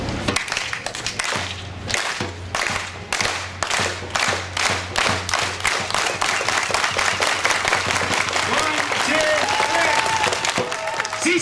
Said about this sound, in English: we're going to start it off slow, we're going to speed it up, and we're going to have one big, loud, thundering clap